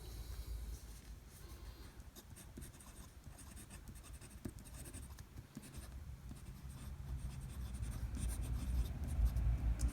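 Fountain pen writing on coated paper, a soft continuous scratching of the nib in close, quiet strokes with no talking.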